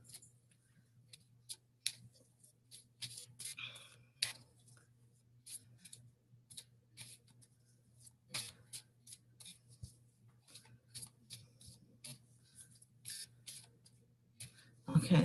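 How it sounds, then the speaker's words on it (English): Romance angel oracle cards being shuffled by hand: soft, quick papery riffles and taps in irregular bursts, close and quiet, over a faint low hum. "I'm shuffling the romance angel cards"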